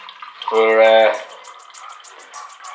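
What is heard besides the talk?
pouring cider into a glass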